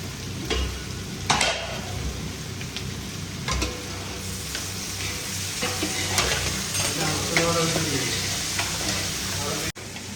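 Octopus frying in a pan while being stirred, with a steady sizzle and scraping strokes at intervals throughout, loud and close, with no voices.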